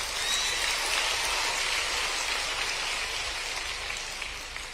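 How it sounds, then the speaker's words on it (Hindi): Sustained applause from an audience at a rally for schoolchildren, a dense, even wash of clapping that holds steady for several seconds and tapers slightly at the end. "ताली जोर से बजाओ ना खेलने पे।"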